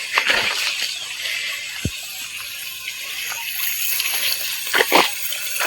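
Irrigation water flows across a farm, a continuous gushing wash heard outdoors at moderate level, with a few sharp knocks and splashes near the end and no speech.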